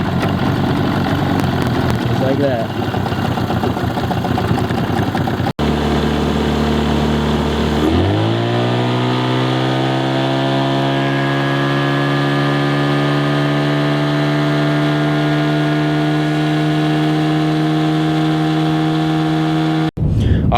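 A 17.5 Pro bass tracker boat's outboard engine cranks, catches and settles into a steady idle with strong harmonic drone, loud and close, with someone speaking briefly over the start.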